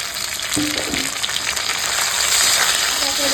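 Onion and green chili fry in a pan as tomato, ginger and garlic go in, giving a steady, loud, close sizzle with a few faint stirring sounds underneath.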